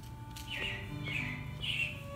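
Animatronic robins chirping in the Carousel of Progress show at Disney World, three bright bursts of tweeting at regular intervals, faint and distant over a low background hum.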